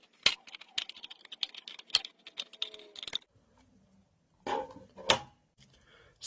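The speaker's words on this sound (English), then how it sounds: "it might be easier to finish this off with a pair of scissors" Scissors snip through thick hard plastic in a run of sharp, irregular clicks and crunches up close, followed by a pause and then a few more cuts.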